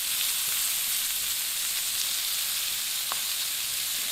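Onions frying in oil in a pan for a tilapia meal, a continuous close hiss of sizzling with a faint stir or clink near the end, no voices.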